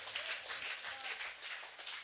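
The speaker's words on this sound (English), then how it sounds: "Give him another round of applause for improvement." Townhall meeting audience applauding steadily, dense overlapping hand claps at moderate loudness filling the whole stretch without a break.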